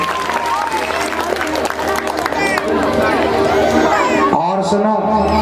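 An audience at a Bhagwat Katha religious gathering claps loudly and continuously, a dense wash of applause with crowd chatter and a voice speaking over it, with music-like tones running underneath.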